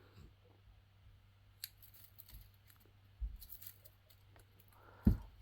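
Scissors prune a shohin weeping willow bonsai, giving a few faint, isolated snips spaced seconds apart over a low, quiet background hum.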